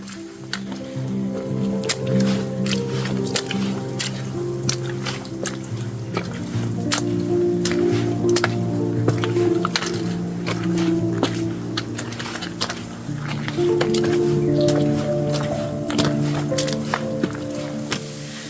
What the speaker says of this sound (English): Keep coming across all these trailside mini waterfalls.